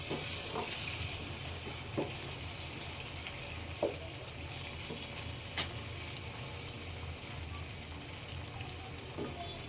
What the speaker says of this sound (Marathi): आपली कोलबी आपण परतून घेऊया